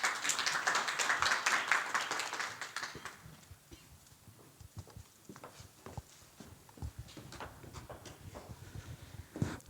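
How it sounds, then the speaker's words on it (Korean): An audience at a digital industry policy debate forum gives welcoming applause, a burst of many hands clapping for about three seconds that then thins into scattered, sparse claps and small knocks in a quieter hall. "환영의 박수 부탁드립니다."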